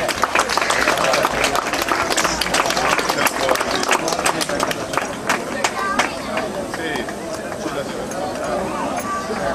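A crowd claps steadily at a sports club party celebrating a team's promotion, sustained dense applause under a loud announcer's voice calling out names.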